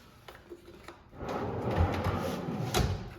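Large drawers with Baltic birch boxes and solid cherry fronts slide in and out in a workshop, a quiet thump followed by a longer rumbling glide and a second bump as they close flush.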